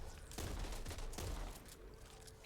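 Rapid gunfire in the co-op zombie shooter Back 4 Blood: a dense, steady burst of overlapping shots with heavy low thumps, loud and continuous through most of the stretch before thinning out.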